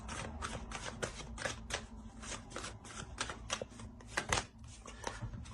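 Tarot cards shuffled and drawn up close, with a rapid run of crisp flicks and slaps from the deck, fairly quiet and irregular in rhythm.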